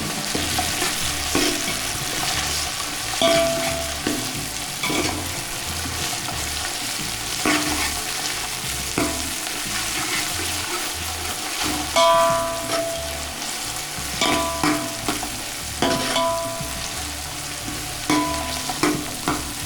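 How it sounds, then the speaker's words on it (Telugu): Food frying in a pan for mutton pulao while a spoon stirs it, a continuous close sizzle punctuated by regular scraping strokes against the metal, with no voices. "ఇట్లా వేగాలన్నమాట."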